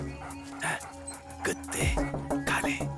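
A dog whimpers and gives short yips in a scene from a Hindi-dubbed action film, the thin cries mixed with a voice and background sound.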